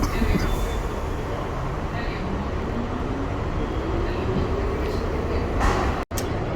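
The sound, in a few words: tram running toward South Ferry terminus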